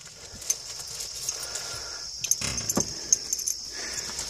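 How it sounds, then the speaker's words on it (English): Keys jingle and clink close by, with a brief louder rattle in the middle, over a low steady background hum. "as soon as I get the keys out of my pocket"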